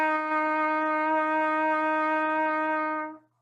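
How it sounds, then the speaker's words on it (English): A trumpet sounds a single sustained first-valve F, a clear steady brass tone held for about three seconds before stopping cleanly. "so that's your first valve note, first valve F"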